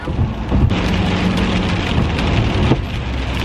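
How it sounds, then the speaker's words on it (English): Steady heavy rain pours and hisses on a surface, close and loud, with no voices. "And the rain is cold."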